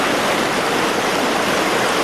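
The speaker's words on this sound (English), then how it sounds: "I feel like I have to talk louder because I'm next to the creek." A creek flows right beside a campsite, giving a loud, even rushing hiss of running water that holds steady from start to finish, close to the microphone, with no speech.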